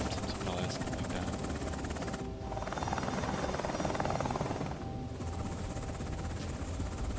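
Apache helicopter in the video game Afghanistan '11, a steady, loud rotor drone with dense broadband noise that swells in the middle and continues throughout.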